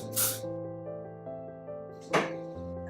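Two short bursts of hairspray hiss up close, separated by a pause, over a steady sustained musical tone.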